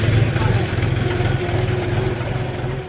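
A palm oil transport tractor's engine running steadily on a muddy village road in Jambi, Indonesia, a loud, even low rumble that continues throughout.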